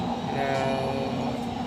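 An underground metro train runs through a tunnel in Doha, Qatar, with a loud, steady rumble and a whining motor tone heard from on board.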